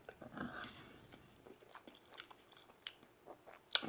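Someone quietly bites and chews a Papa John's BBQ brisket pizza topped with pickles, soft crunchy bites and mouth sounds scattered close up in a hushed room.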